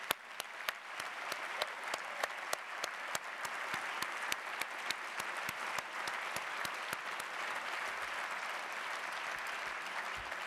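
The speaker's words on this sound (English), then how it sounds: "Would you please stand for a round of applause?" A standing round of applause for Skoll Center partners fills the room, steady and sustained throughout with a few sharper individual claps standing out, no voices on top.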